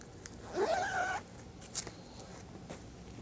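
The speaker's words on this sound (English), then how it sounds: "turn the carrier over, closing the zipper." A short zipper pull closing a body armor vest carrier, lasting about half a second, close and fairly quiet, followed by a faint rustle and soft handling sounds.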